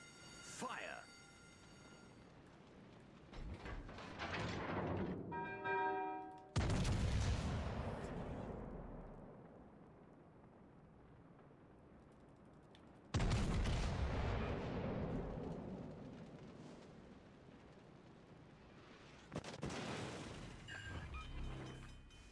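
Warship artillery in World of Warships Legends, several heavy booming salvos each followed by long rumbling decay, loud and near, with a voice talking over parts of it.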